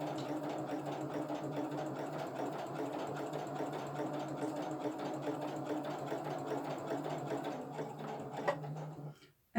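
A sewing machine stitches a camo pouch in a steady, rapid mechanical run, close and continuous, stopping abruptly near the end.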